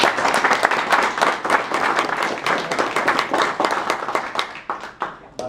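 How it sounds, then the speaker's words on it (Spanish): An audience claps together in a sustained, even round of applause, with distinct individual claps audible throughout before it thins slightly at the end. "Un saludo, un aplauso para él."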